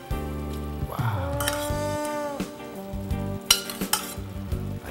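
Pasta being tossed with crisp broccoli in a hot frying pan, a close, steady sizzle with scraping stir strokes and brief clatters of the utensil against the pan.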